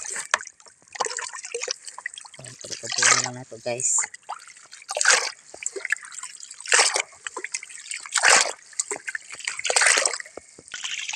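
Water trickles and splashes into a container in uneven bursts and pours, fairly close, while someone speaks briefly over it.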